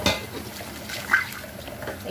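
Dishes clink and knock while something is washed in water at a sink in Qatar, with a couple of close, bright clatters over a soft wet background.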